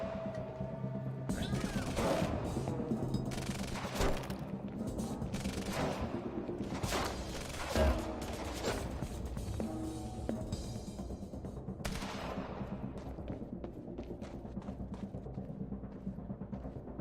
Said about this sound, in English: This fucking light machine gun running out of bullets so damn quick